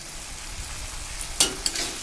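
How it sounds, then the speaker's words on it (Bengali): Onion, garlic, ginger and a large tomato frying in a pan for katla fish curry make a steady low sizzle, broken near the end by two sharp spatula clacks, with no voices. "আমি সব সে পেঁয়াজ রসুন আদা আর একটা বড় টমেটো আগে ছেড়ে দিলাম"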